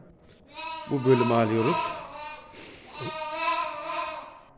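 Sheep and lambs bleat on a farm in Konya, a loud harmonic bleat standing out near the middle, with a softer call later, while someone talks over them in Turkish.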